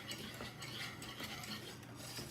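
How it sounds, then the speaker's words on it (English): Eggs being whisked into a sugar and cornstarch mixture for lemon meringue pie filling, a steady, close scraping whir of the whisk against the bowl that runs without pause and with no voices. "I'm going to whisk this into my flour cornstarch mixture, or excuse me, my sugar cornstarch mixture"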